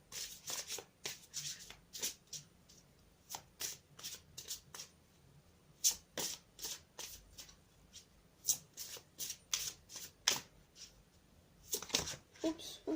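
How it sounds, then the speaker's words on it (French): Cartomancy cards being shuffled by hand in a daily tarot-style reading, a fast run of crisp riffling flutters and snaps repeating in bursts, close and fairly loud. "Donc je vais recommencer à battre les cartes."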